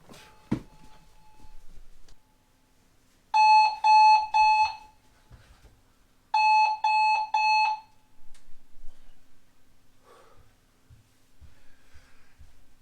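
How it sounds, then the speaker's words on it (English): An alarm clock rings in two separate bursts of rapid, loud electronic beeping, each lasting about a second and a half, with quiet room sound between and after them. "Set an alarm, have a watch."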